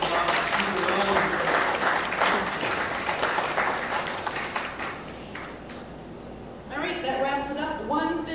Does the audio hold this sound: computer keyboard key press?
no